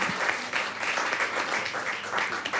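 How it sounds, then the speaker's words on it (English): Audience at a launch event at a hotel in Zanzibar gives a steady round of applause, an even wash of many hands clapping at moderate distance with no talking. "a round of applause for them."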